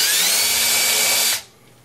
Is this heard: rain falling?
no